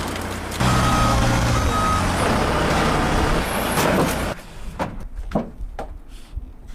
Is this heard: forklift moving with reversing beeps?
yes